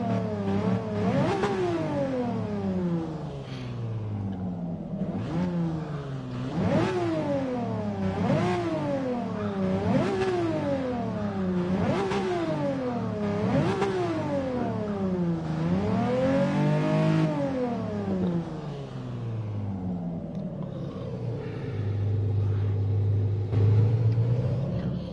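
A 1961 Ferrari 250 GT engine revs hard again and again, each rise and drop sharp and close, building to one longer, higher sweep before settling into a steady idle, with no talking.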